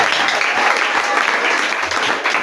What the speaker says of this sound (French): Acclamons très fort pour le nom de Dieu.